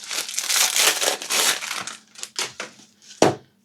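Crinkly sheets of filo pastry are handled and unfolded in a home kitchen, giving loud, close rustling and crackling in bursts, ending with a sharp crisp crunch.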